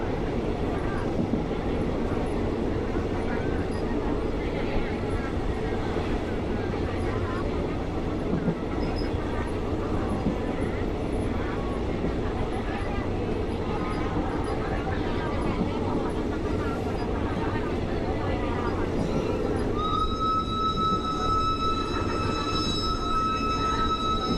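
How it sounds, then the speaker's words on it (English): A steam train on an excursion run from Bangkok to Ayutthaya rumbles steadily along the line, then near the end a long tonal whistle blast sounds out loud over the running noise. "There's nothing more nostalgic than that train whistle and horn blowing"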